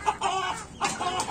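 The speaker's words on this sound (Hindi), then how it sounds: "तेज है मुर्गी" An Aseel hen clucks close by in short, loud bursts, with brief pauses between the calls.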